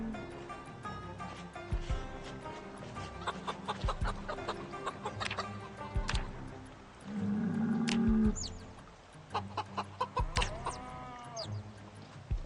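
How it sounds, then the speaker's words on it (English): Chickens from the Project Zomboid game cluck and chirp in a busy farmyard, with chicks peeping and a hen or rooster giving a louder drawn-out call midway, all fairly close and steady throughout. "We got 3 chicks over here."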